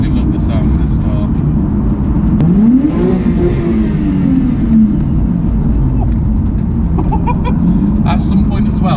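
A 300 bhp Toyota Soarer revs up and falls back in a rising and falling engine note, loud and close, with people talking over it.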